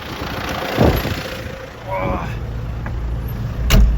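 A low MTZ tractor engine rumbles steadily throughout, with a voice speaking briefly over it and a few clunks and bumps.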